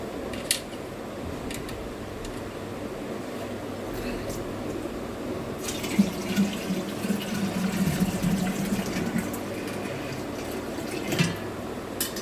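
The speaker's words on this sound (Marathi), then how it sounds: "अगोदर माठात पाणी टाकते" Water pours steadily into a clay pot with a low, hollow gurgling that rises toward the middle, with faint voices and a few knocks around it.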